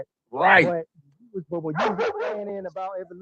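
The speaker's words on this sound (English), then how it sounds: "Yeah, that's my dog, man, in the background." A dog barks in the background: one loud yelp-like burst near the start, then more bark-like sounds mixed in with someone talking close by.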